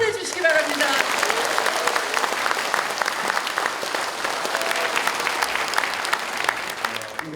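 Dense, sustained audience applause at a Korean Democratic Party appointment ceremony, loud and continuous crowd clapping with scattered voices mixed in.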